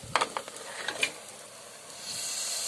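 Mutton pieces going into hot frying coconut masala in a pan, with soft sizzling and a few scraping, clicking stirs of a spoon, close and fairly quiet.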